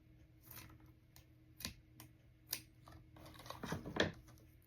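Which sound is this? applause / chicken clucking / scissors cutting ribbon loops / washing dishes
scissors cutting ribbon loops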